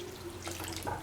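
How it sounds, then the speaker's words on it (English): Water poured into a pot of okra and ground cashew nut stew, a short steady splashing pour lasting about a second, close and fairly quiet against a low background hum. "Pour in 300 ml of water."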